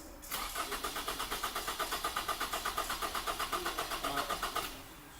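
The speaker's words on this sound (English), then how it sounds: "we're going to have the driver crank the car for about 10 seconds" A car engine cranks on its starter during a charging and starting system test, a steady rapid rhythmic chugging of about four seconds with no catch, close and fairly loud, starting and stopping abruptly.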